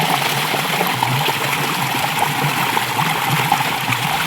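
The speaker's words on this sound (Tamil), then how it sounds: "நல்லா அலசி. இந்த தண்ணி எல்லாம் அங்கே போகுது." Steady running water while fish is rinsed outdoors in a village garden, a continuous close splashing trickle with no voices.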